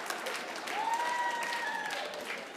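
Comedy show audience clapping, a faint, distant patter of applause under a hushed room tone with a brief tonal whine.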